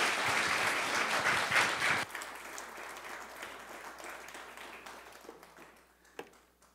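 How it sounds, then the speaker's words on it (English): Audience applause for Maurice Clarett after his talk, a loud burst of crowd clapping that drops sharply after two seconds and trails into scattered claps and fading room noise. "why don't you give him a warm applause?"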